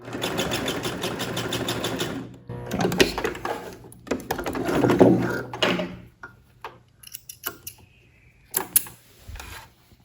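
A sewing machine backstitches over the end of a seam on a garment for beginners, running in short uneven bursts of close mechanical whirring and needle clatter, separated by pauses with light handling noises.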